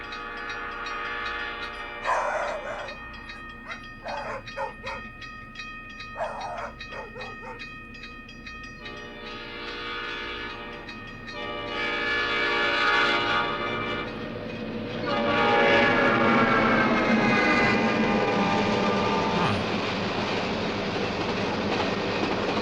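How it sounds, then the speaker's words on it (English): Train sounds close out an album: a locomotive horn blares in long tonal blasts over rumbling, clattering rail cars, the whole passage growing louder and denser toward the end with no one speaking. "and then the train noises, dogs barking"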